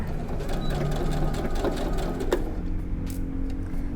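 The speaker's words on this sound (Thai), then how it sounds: "จากนั้นก็เย็บยึดไว้นะคะตะเข็บ1เซนติเมตร ตอนเริ่มย้ำตะเข็บด้วยนะคะ" A sewing machine runs steadily, stitching a one-centimetre seam around a shirt neckline as the fabric is fed along the curve. It holds a continuous close mechanical whir with small clicks and no talk over it.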